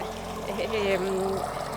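Water drawn up from underground gushes out in a steady, continuous jet, rising naturally without a pump; a close, even rush of flow runs throughout while people talk over it.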